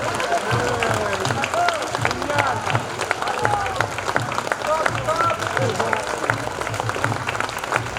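Sustained applause from a large crowd, loud and continuous, with scattered cheers and whistles rising above the clapping.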